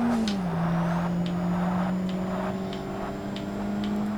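Race car engine in the 2005 Forza Motorsport game during a mid-engine challenge race, a loud, steady drone whose pitch dips and then holds, with faint tyre and track noises over it.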